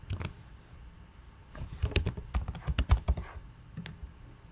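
Fingers type an email address on a computer keyboard in quick, uneven bursts of close, soft key clicks, starting sparse and then running into a busier flurry.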